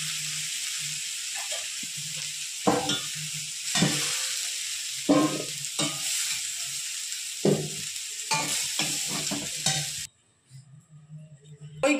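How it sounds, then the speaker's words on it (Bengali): Soybean chunks and potato pieces fry in hot oil in a pan, a steady loud sizzle broken by several sharp bursts of stirring and scraping before the hiss drops away near the end. "সোয়াবিন আর আলু আমি হালকা করে ভেজে নিয়েছি"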